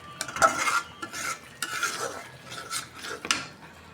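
Roast being stirred and sautéed with homemade spices in a pan, close, with repeated scraping and clanking strokes of a utensil against metal in an irregular rhythm, without talk.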